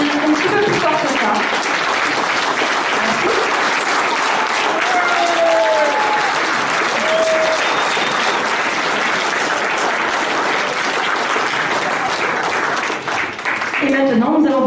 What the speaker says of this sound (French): On peut l'applaudir un petit peu plus fort que ça.